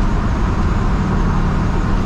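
An old Ford F100 pickup with a swapped engine cruising on the road, giving a steady, loud low-pitched engine drone mixed with broadband road and cabin noise, heard from inside with no talking.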